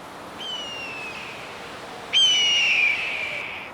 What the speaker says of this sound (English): Wow, that's a red-tailed hawk.